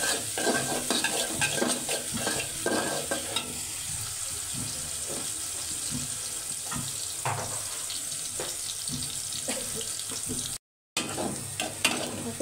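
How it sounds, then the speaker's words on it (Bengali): Onions frying with salt in a pan, a steady close sizzle with repeated scraping and stirring clicks from a spatula throughout. "পেঁয়াজটা ভাজা হয়ে গেছে"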